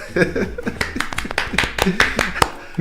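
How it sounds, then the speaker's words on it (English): An audience gives a brief round of applause for Peter at a science show, scattered claps rising under a talking voice and some light laughter. "A round of applause for"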